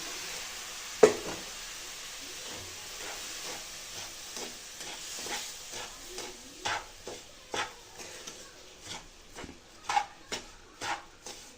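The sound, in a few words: mixing rava laddu mixture while adding warm milk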